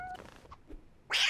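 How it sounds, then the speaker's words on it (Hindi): A cartoon cat gives a short, faint meow, followed by a brief, brighter hissing burst. "मगर ये तो बिल्ली है।"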